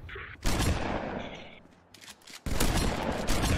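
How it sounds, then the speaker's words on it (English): Shotgun fire in the Halo video game: a loud blast, a decaying tail, then a second heavy burst, with dense crackling gunfire around it and no talk. "Fucking shotguns, one shot"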